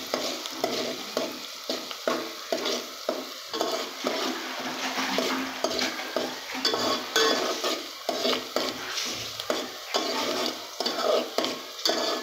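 Chilies roast in hot oil in a pan, sizzling steadily at close range as a spoon stirs and scrapes against the pan in an irregular rhythm.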